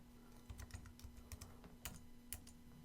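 Typing on a computer keyboard while entering a surcharge in freight rating software, a quick run of soft keystroke clicks in small bursts, faint and close, over a steady low electrical hum.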